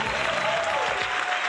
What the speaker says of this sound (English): we got to give ourselves a round of applause